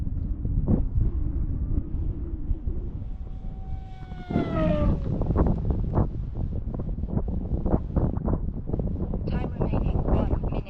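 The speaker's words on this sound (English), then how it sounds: "got a good wind coming with us." Steady wind roaring over a microphone outdoors during a Skynetic Havok Racer model flight, loud and continuous with gusty buffeting throughout, while a voice talks over it.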